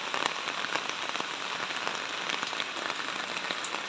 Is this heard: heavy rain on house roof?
yes